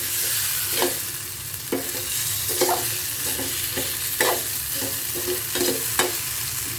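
Spice masala for a hilsa and green banana curry is stirred and sautéed in a pan, with a low steady sizzle under repeated scraping spatula strokes in an uneven rhythm, close and clear with no speech.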